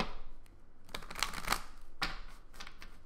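Tarot cards are shuffled in a few quick riffling bursts with short crisp flutters and pauses in between, close and fairly quiet, with no voices.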